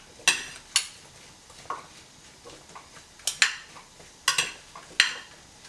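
Utensil clinking against a bowl while stirring a chicken mixture before roasting, a series of sharp, separated taps and scrapes at an uneven pace, close and fairly quiet with no voices.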